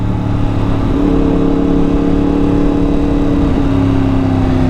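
A loud Yamaha MT-10 motorcycle engine roars close by, its pitch stepping up and holding steady as it accelerates, continuous with no pauses.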